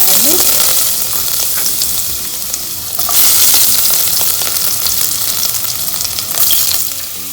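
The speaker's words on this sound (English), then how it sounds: "add some oil" Oil heating in a hot pan while cooking cashew and garlic cream pasta, a loud, continuous bright sizzle that swells in bursts as food is stirred, with no talk.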